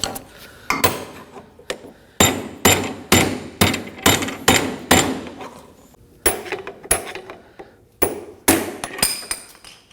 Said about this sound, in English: I'm gonna be using a small pry bar and a hammer to get rid of this